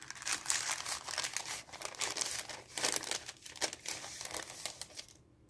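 A decorated paper bag from a stationery order crinkles and crackles steadily while being handled up close for about five seconds, then falls silent at the end.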